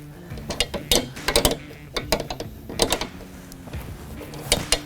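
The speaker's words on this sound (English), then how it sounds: "we're going to tighten our L brackets here using a size 14 wrench at the bottom" A size 14 wrench tightens nuts on the L brackets of a 90W CREE LED light bar on a 2023 Ford Super Duty, giving close, irregular bursts of metallic clicking and ratcheting.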